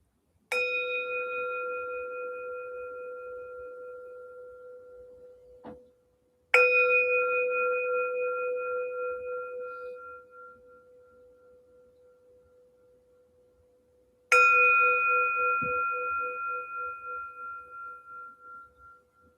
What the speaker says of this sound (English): we'll start the meditation stillness with a bell